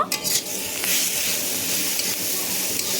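Masala with cumin and coriander powder is stirred in a hot pan, a loud continuous sizzle with a brief scrape near the start and no talking.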